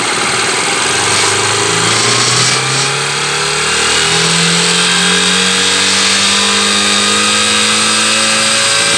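A 2013 Factor YBR 125 motorcycle with a faulty charging system is revved while running, its single-cylinder engine climbing steadily in pitch from idle to high RPM, loud and close throughout.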